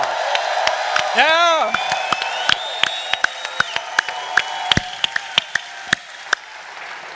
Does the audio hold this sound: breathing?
no